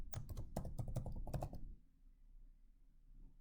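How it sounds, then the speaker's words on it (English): Rapid clicking of computer keyboard keys typed in quick bursts for about a second and a half, close and clear, then a quiet room with faint low hum. "Then we're going to type in her institution,"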